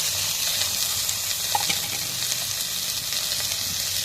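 Mustard seeds, cumin and fried lentil dumplings cooking in oil for a bitter gourd dish, an even close sizzle with light stirring and a faint watery hiss, no talking.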